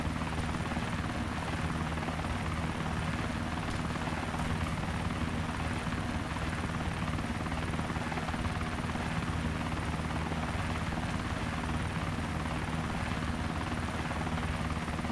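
An Mi-17 helicopter in DayZ Epoch, its rotor and engine making a steady, close, droning roar with rhythmic blade chop that continues without a break.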